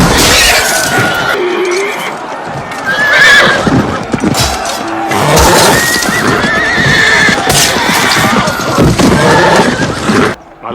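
English cavalry horses neigh loudly and shrill while hooves clatter in a gallop, amid a chaotic battle with crashing, shattering noises, close and continuous.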